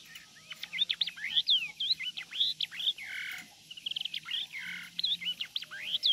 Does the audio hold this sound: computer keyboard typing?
no